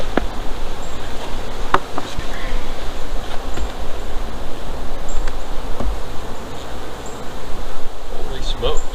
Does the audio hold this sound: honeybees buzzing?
yes